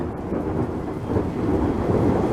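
Thunder rumbles on a gloomy midday in Florida, a low, steady roll that swells slightly toward the end, heard alone with no voices.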